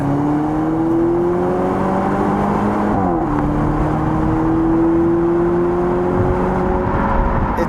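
A Volvo V90 Cross Country B5 AWD accelerates hard from a standstill in dynamic mode, its engine note climbing steadily through the gears with one brief dip at a shift, heard from inside the cabin without talking.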